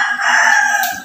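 A rooster crows once, close and loud, a short bright cock-a-doodle-doo call cut off after about a second.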